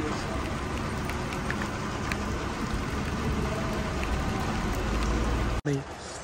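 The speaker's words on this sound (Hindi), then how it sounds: "बाहर तो काफ़ी बारिश है" Heavy rain falls outside at Faisal Mosque in Rawalpindi, a dense steady hiss of drops on surfaces, loud and continuous, broken by a sudden sharp drop-out near the end.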